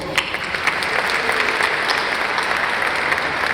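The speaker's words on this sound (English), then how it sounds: "Let's have a round of applause for all of the awardees." Steady, dense applause from a dinner audience honoring grant awardees at an Events DC dinner, sustained and fairly loud throughout with no talk over it.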